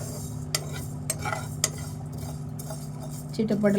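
Fenugreek seeds and spices are dry roasted in a pan for a drumstick chutney, with a spoon clinking and scraping against the metal at intervals over a low steady background.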